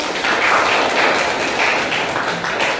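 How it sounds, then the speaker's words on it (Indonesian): Classroom group clapping during a teacher-led lesson, a dense steady patter of hands that stays loud and even throughout with no voices on top. "beri tepuk tangan dulu ya buat kalian ya"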